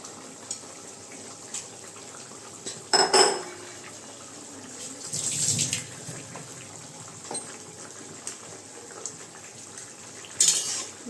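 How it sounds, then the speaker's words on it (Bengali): Hilsa fish head and tail pieces go into a pot of simmering taro curry: a few sharp clanks of utensils against the pot and a soft wet splash, close by against a quiet kitchen background. "এখন আমি মাছগুলো দিয়ে দেবো মানে লেজ আর মাথাটা দিয়ে দেবো ইলিশ মাছের"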